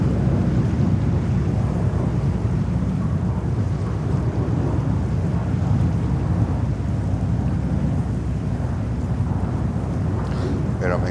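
Heavy winter wind buffets an outdoor microphone at JFK airport, a steady loud roar with low rumbling gusts that runs unbroken for the whole stretch, with no clear aircraft sound standing out.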